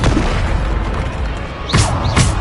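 The Bombarda explosion spell in the game Hogwarts Legacy goes off as two deep, booming blasts close together near the end, following a steady rumble of game sound.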